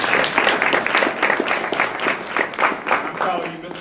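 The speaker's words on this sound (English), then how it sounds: "Let's give Mr. Love a round of applause." Audience applause following an interview, a full, continuous roar of many hands clapping at close range, loud and evenly sustained for several seconds without voices on top.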